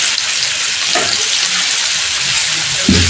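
Tomato fries in a pan with turmeric and salt, a loud, close, continuous hissing sizzle with no break and no voices.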